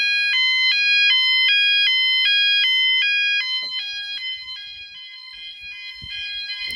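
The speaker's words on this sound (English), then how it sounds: "So that triggers every alarm sounder there is." Several E.M.S. FirePoint 5004 fire alarm sounders ring at once in a loud, steady two-tone warble that alternates rapidly and without a break. Partway through it drops slightly in level and faint handling noises come in underneath.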